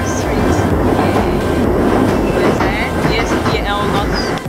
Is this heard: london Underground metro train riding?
yes